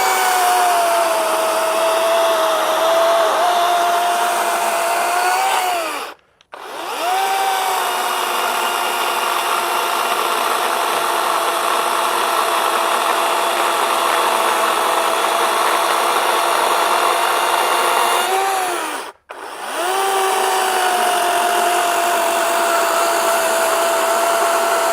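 A SKIL CS V 18-inch chainsaw, set with its bucking spike, saws through wood in a loud, sustained, close drone. The drone drops away twice for a moment, then resumes at full pitch.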